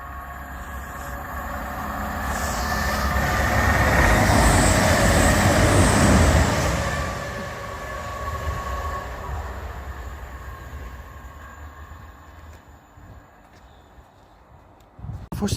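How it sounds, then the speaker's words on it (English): A CrossCountry passenger train from Bournemouth to Birmingham New Street rumbles past close by in southern England, its roar building to a peak and then slowly fading as the carriages roll away. "CrossCountry service from Bournemouth to Birmingham New Street."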